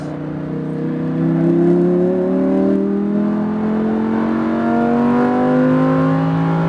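A Lamborghini Huracan accelerating on a race track, engine heard from inside as a steady rising drone that climbs in pitch through the gear, loud and continuous with no voices.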